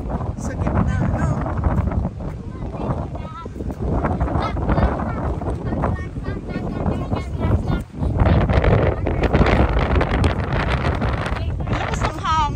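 Strong wind gusts across a lake in Kelowna, British Columbia, on a summer day: a loud, steady buffeting rumble that dips briefly near the middle, with people talking over it throughout.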